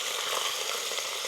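Beef frying in a pan over an outdoor forest fire, stirred as it cooks, making an even, close sizzling hiss with faint scraping texture throughout and no speech.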